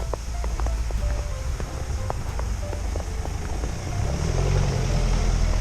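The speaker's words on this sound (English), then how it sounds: "Some cars trying to get up the hill seem to be doing just fine." Cars climbing a snow-covered hill in Vienna during heavy winter snow, with a continuous low engine and tire rumble nearby mixed with scattered clicks and outdoor noise.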